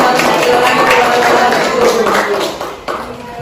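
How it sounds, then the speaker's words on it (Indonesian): A group in a classroom at a mathematics teacher-training performance assessment in Merauke claps after a presentation. The clapping is loud and close, then tapers off near the end, with voices talking over it. "Oke, tepuk tangan."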